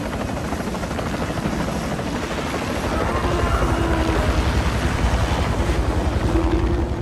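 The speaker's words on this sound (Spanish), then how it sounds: "Necesito que el helicóptero se acerque más." A helicopter in The Thing video game thrums steadily with a loud, continuous rotor chop that grows slightly stronger midway, with wind-like rushing noise over it.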